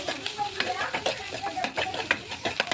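Spices, turmeric and red chili powder, being stirred through in a pan for egg bhurji, giving a steady run of close scraping strokes over a light sizzle, with no voices.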